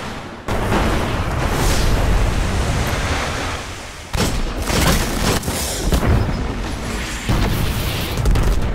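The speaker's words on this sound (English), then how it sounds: "He wasted a rocket launcher on me." Heavy rocket launcher explosions from the online shooter Destiny, loud booming blasts with dense rumbling noise, one dropping out around four seconds before another burst hits, repeated impacts following close.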